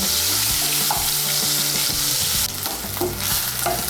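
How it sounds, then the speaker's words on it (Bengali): Turmeric and salt-coated boiled potato pieces fry loudly in hot oil, a dense close sizzle with rhythmic stirring scrapes and pan knocks throughout. "আলুটাকেও আমি ভেজে নেব"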